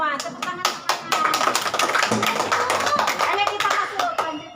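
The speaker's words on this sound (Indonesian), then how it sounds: "Tepuk tangan semuanya." Children clapping their hands together in a classroom, a dense, sustained round of sharp claps with children's voices mixed in.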